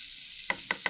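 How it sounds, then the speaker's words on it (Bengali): Pumpkin frying in a pan, a steady faint sizzle that turns into three short bursts of louder crackling and stirring near the end. "দর্শক বন্ধু, এই যে মিষ্টি কুমড়া ভাজি আমার প্রায় হয়ে গেছে"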